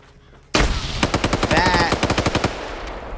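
Sustained automatic gunfire in Arma 3 during a PvP tournament match, a loud rapid rattle of shots bursting in suddenly and continuing in a steady rhythm, with a whistling tone briefly layered over the shots.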